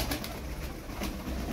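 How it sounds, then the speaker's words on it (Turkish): Game pigeons coo in a loft, soft throaty calls pulsing repeatedly under a dense, noisy background. "Yine bir parti kuş çıkarttım."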